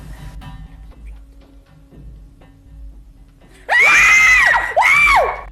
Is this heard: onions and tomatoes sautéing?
no